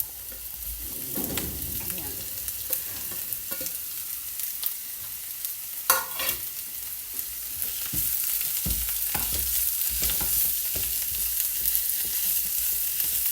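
Bitter gourd sautéing with egg in a pan, a steady broad sizzle with intermittent scraping stir strokes and a louder clatter near the middle, continuing alone without talk.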